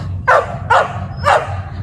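Three sharp dog barks in quick succession, loud and close, over a low steady background hum.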